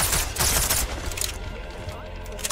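A loud, ragged volley of gunshots in a sniping video game fades into a rumbling tail. Game ambience hums underneath, and a voice talks over part of it.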